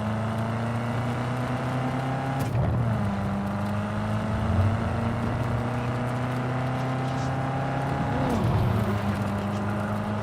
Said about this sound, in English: I like the sound of this car, dude.